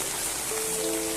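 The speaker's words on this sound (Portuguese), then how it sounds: "onde a chuva já começou por aqui" Rain falls steadily in a dense, even hiss, close and continuous, with a faint tone near the end and no voices.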